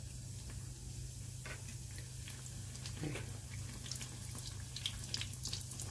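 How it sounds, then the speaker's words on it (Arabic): Dough pastries (fatayer) frying in hot oil, a faint bubbling sizzle with scattered crackles and pops over a steady low hum, quiet and close with no talking. "نروح نحمي الزيت هلا ونقليهم مع بعض"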